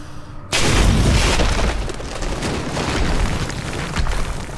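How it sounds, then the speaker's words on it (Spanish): A gunshot rings out in the video game Singularity, one sudden loud blast that breaks in after a quiet moment and decays into a sustained rumbling roar. "Eso es un disparo, por si alguien no lo sabía."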